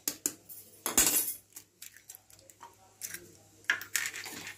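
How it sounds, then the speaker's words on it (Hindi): Two eggs cracked into a glass while making a simple omelette, a series of sharp clinks and taps against glass with small splashes between them, close and otherwise quiet. "इसमें मैं दो अंडे फोड़ के डालूंगी।"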